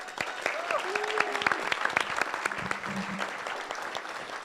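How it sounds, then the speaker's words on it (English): An audience applauds steadily at an evening thank-you event, with dense clapping throughout and a voice speaking over it. "Give a big round of applause for Lauren and the group that did this"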